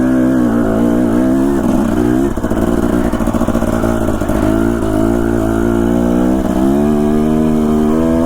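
A Husqvarna enduro motorcycle, likely a 125, descends Idaho mountain terrain, its engine a loud, continuous buzzing drone that rises and falls steadily with throttle changes and clattering underneath.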